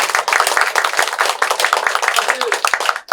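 Dense audience applause fills an award ceremony for a youth essay contest, with a steady, close wash of many hands clapping that runs without a break until a brief dip at the end.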